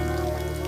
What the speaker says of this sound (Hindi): बरसात अब रुक जाएगी।